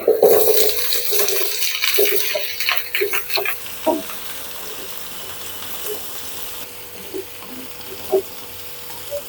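Chunks of sweet pumpkin drop into a hot pan with sliced green chillies, starting with a loud burst of sizzling and clattering that settles into a quieter fry with occasional knocks and stirs.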